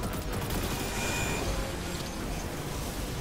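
Rapid, dense gunfire in the video game Destiny 2 during a Deep Stone Crypt raid, a continuous crackling fusillade at steady loudness with no gaps.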